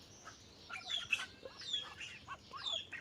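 Ducks in a morning farmyard with chickens nearby give repeated short quacks and squawks in uneven bursts, fairly faint and close together, with no talking.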